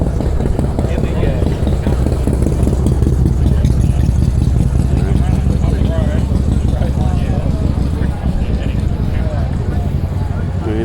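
Several Harley-Davidson motorcycles idle together at an outdoor big-bike gathering, a steady close, loud engine rumble with a chugging rhythm running throughout, while people talk over it.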